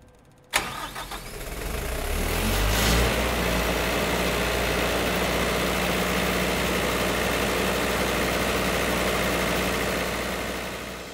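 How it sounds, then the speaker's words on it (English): A CK Power CK-40 diesel generator with an industrial Kubota 3600T diesel engine, rated for 40 kW, cranks and catches, then settles into a loud, steady, close-up running drone that continues without talk. "Powered by an industrial Kubota 3600T diesel engine and capable of producing up to 40 kilowatts of continuous prime power"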